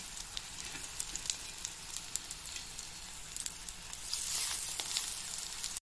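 Jute leaf fritters sizzle steadily in oil in a wok, a close, soft crackling hiss with scattered pops that brightens near the end as more batter goes in.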